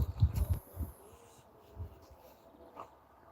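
Maksio the dog growls and whimpers in a cluster of loud, close bursts at the start while jumping about, then gives a few fainter, scattered sounds.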